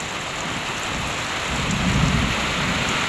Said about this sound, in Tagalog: Nakulog na din po.